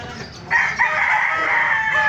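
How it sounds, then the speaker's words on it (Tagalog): A rooster lets out a loud, close crow lasting over a second, against a faint background of other chickens at a market. "sisiyan natin mga manok"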